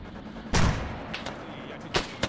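Gunfire near a helipad in an alternate-history video game set during the August Coup: one loud close shot or blast, then a few sharper, fainter cracks spaced apart over a low background rumble.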